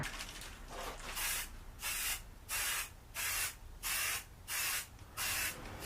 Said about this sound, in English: I think I'm ready to throw down some paint.